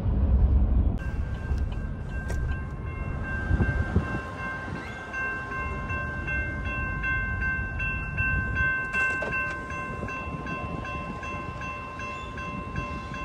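Norfolk Southern freight train NS 4387 rumbles past close by, with steady rolling wheel noise and a prolonged horn blast sounding through the middle.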